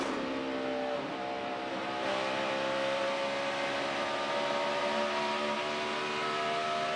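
A NASCAR stock car engine screams at high RPM during the Pocono race, a sustained loud whine that dips briefly near the start before climbing and holding steady under a constant roar.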